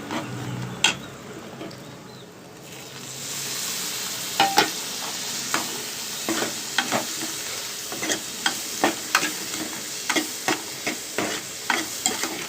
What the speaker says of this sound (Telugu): దీనిని కూడా బాగా కలిపేసి మన టమాటా ముక్కలను వేసుకున్నాము